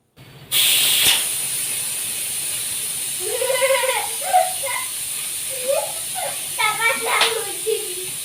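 A pressure cooker is opened in a home kitchen and gives off a loud, sustained hiss of escaping steam. People talk over the steam throughout.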